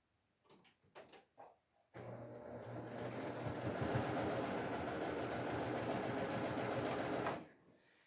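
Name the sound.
sewing machine chain piecing quilt pieces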